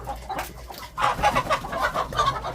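Roosters at a home poultry farm cluck and call loudly nearby, overlapping in busy bursts with a short crow-like rise, and no talk.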